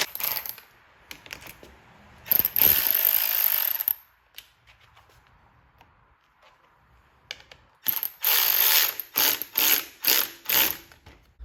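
Ratchet tightening a mirror mount on a Suzuki DRZ400SM motorcycle, close rapid clicking in two bursts, first one long run, then several short repeated strokes after a quiet pause with faint handling noise.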